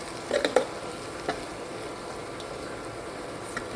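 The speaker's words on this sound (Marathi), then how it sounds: "शेंगदाणा आणि मिरचीचा पुट्यामध्ये टाकला आहे हे छान असं सगळं शिजेपर्यंत परतून घ्यायचं" Peanuts and green chillies sauté in a pan for sabudana khichdi. A soft, steady sizzle runs throughout, with a few faint spoon taps near the start.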